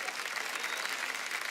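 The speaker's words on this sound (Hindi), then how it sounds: "जोरदार तालियां हो जाए अली ब्रदर्स के लिए।" Studio audience applause on a comedy talk show, a dense steady clatter of clapping hands sustained across the short moment without clear voices.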